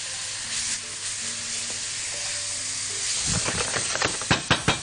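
Minced garlic added to frying onions sets off a sudden louder sizzle and hiss, followed by several close spoon taps and stirs in the pan.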